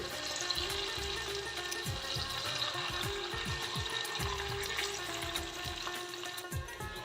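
Sago snacks fry in hot oil in a wok on a gas stove, a dense steady crackling sizzle heard up close with repeated bubbling bursts throughout.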